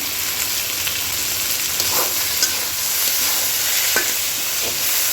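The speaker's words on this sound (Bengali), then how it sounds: "টমেটোটা পেঁয়াজের সাথে একটু ভেজে নিব, কাঁচা গন্ধ চলে যাওয়া পর্যন্ত" Chopped tomato and salt fry with browned onions in a pan, giving a steady broad sizzle with a few stirring scrapes, close and continuous, no talking.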